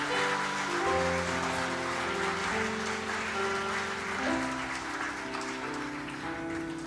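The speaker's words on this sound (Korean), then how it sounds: "우리 시온 찬양대를 위해서도 박수 뜨겁게 다시 한번 해주시기 바랍니다" Church congregation applauding the Zion choir at a Sunday worship service, a steady wash of clapping running throughout under sustained organ or choir tones.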